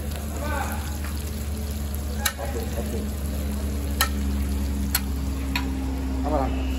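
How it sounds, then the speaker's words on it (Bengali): Eggplant fried with onion, tomato, green and dried chillies at a riverside Mawa ferry ghat, a steady oily sizzle with scraping stirs and occasional metallic clinks, close, under a low constant hum and some nearby talk. "বেগুন ভাজি, সাথে পেঁয়াজ, টমেটো, কাঁচা মরিচ, শুকনা মরিচে ভাজি চলছে"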